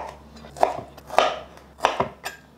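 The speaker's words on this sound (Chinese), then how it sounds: "把青椒切成菱形片" A knife chops green bell pepper into diamond-shaped pieces on a cutting board, four or five sharp, distinct knocks spaced about half a second apart, close and clear.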